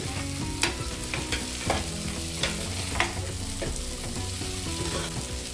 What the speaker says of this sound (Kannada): ಮೊಳಕೆ ಕಟ್ಟಿದ ಕಾಳು ಹಾಕಿ ಏನು ಜಾಸ್ತಿ ಏನು ಫ್ರೈ ಮಾಡಬೇಕಾಗಿಲ್ಲ, ಒಂದು 1 ಮಿನಿಟ್ ಫ್ರೈ ಮಾಡ್ಕೊಳ್ಳಿ